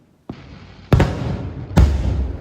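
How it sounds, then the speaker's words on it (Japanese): Fireworks launched over Lake Toya go off as sharp booming bursts, one small pop followed by two loud blasts about a second apart, each trailing into a rumbling echo across the lake. "10月末まで毎晩20時45分から約20分間花火が打ち上がるそうです。"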